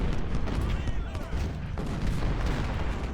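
Dense, continuous rumbling volleys of musket and cannon fire roll on throughout from an American Civil War battle in the Ultimate General: Civil War strategy game, loud and layered with no pauses.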